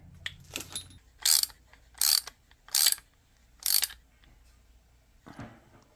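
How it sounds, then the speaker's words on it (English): Ratchet clicking in four short, loud bursts with pauses between them while a set screw is driven into the high-low selector shaft of a Land Rover LT230 transfer case, with a final softer burst at the end. "we are installing the set screw into the high-low selector shaft"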